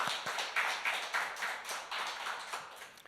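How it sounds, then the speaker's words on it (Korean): A congregation at a Sunday church service claps together in a steady, rapid rhythm, many hands blending into a dense, moderately loud wash with no voices over it. "다시 한번 박수 한번 해드리겠습니다."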